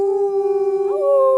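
A person imitating a wolf or coyote howl, a single sustained tonal howl lasting over a second that bends upward in pitch partway through, loud and close.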